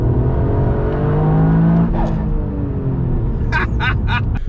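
A Toyota Yaris GR on a race track, engine droning steadily with harmonic tones shifting as it slides off the throttle, a few short high squeals near the end.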